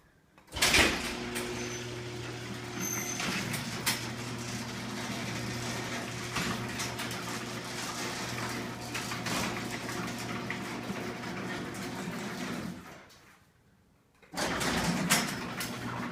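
LiftMaster opener raising a Wayne-Dalton garage door, a steady loud mechanical motor hum and rumble running about twelve seconds, dropping to near silence, then starting again.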